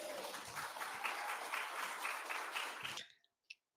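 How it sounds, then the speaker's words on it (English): A crowd breaks into dense, sustained applause, many hands clapping evenly at a moderate distance for about three seconds before it cuts off abruptly, leaving a single faint sound afterward. "people in the audience also shared in that moment with this whole eruption of applause"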